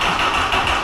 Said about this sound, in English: So that's stock exhaust.